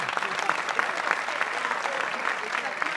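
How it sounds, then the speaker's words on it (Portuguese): Crowd applause at a live Portuguese comedy roast night, a steady wash of many hands clapping with a few sharper claps standing out, sustained and fairly even for the whole stretch. "Vamos, aplausos para um gajo satisfeito"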